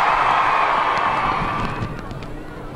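A large street crowd cheers for the 2012 Olympic torch relay in Warrington, a loud, sustained roar that slowly tapers off, with voices mixed through it.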